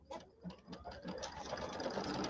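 Embroidery machine stitching a placement line on quilt batting, a steady rapid mechanical chatter of needle strokes that runs continuously and close by, with no talk over it.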